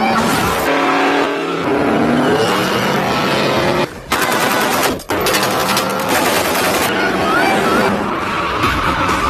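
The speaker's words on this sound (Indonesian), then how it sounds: "Saat masih sedang kabur itulah muncul sebuah mobil truk yang dikendarai oleh orang yang sama yang sudah membunuh istri Carlos, di mana mereka terlibat kejar-kejaran yang cukup menegangkan" A truck chases a car, apparently a Range Rover, in a tense action movie chase: loud, continuous engine roar and revving with sharp gunfire-like bursts, broken by two brief near-silent cuts.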